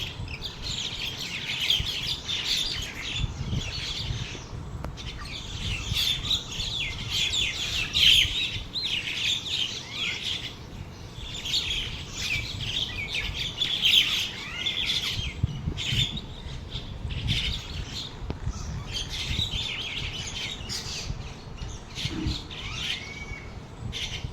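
Birds chirp and twitter continuously throughout, with bright, busy calls over a low rumbling background.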